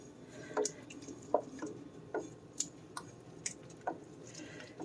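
Coconut oil, soy sauce and lemon juice being stirred together, giving soft, close, irregular wet squishes and light clicks spaced a second or so apart over quiet background.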